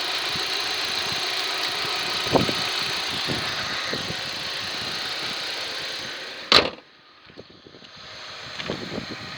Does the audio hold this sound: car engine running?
yes